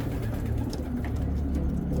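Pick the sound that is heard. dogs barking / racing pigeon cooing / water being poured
racing pigeon cooing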